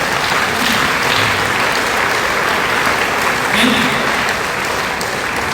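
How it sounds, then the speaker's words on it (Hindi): Audience applause at a business plan presentation, continuous even clapping from a crowd that fills the room, with a voice faintly underneath. "मैंने नहीं बोला कि ताली बजाओ, ऑटोमेटिकली बजी है"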